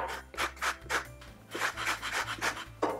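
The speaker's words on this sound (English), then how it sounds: "As our yeast is rehydrating, we'll zest 1 lemon." A lemon is zested for Portuguese sweet bread, producing a steady rhythm of close, dry rasping strokes against a grater, about ten in quick succession, with a low hum running underneath.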